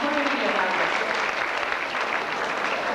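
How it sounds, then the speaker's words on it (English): Sustained applause from the audience at the Miss Ireland 1992 pageant, a constant loud wash of clapping with a brief voice near the start. "Give her a round of applause on that"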